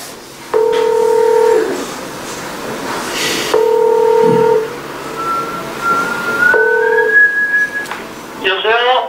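Telephone keypad dialing tones while placing a call, several steady two-tone beeps spaced apart, loud and close, followed by a rising ringback-like tone and a brief burst at the end.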